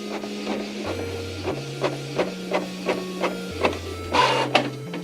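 Inkjet printer running a print of a clear water slide decal, its carriage whirring in steady stepped passes with rhythmic clicks and a louder mechanical burst near the end, close and alone.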